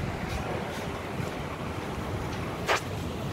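Sea waves wash steadily against the shore, a constant soft roar mixed with wind buffeting the microphone.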